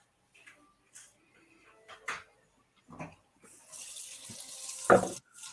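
Stout beer poured into a stout glass, a soft intermittent trickle building into a louder, steady foamy pour toward the end, with quiet handling knocks along the way.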